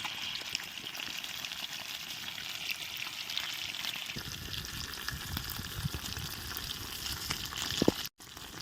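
Fish frying in hot coconut oil, a soft steady sizzle that swells sharply when the fish goes into the pan midway, close and fairly quiet, with a brief clatter near the end.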